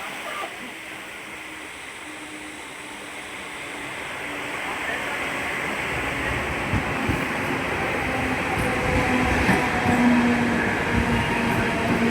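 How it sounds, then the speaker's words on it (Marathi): A train rumbles into Vashi station, its low roar and rattling wheels growing steadily louder, with brakes squealing faintly near the end. "ट्रेन आलेली आहे बघा"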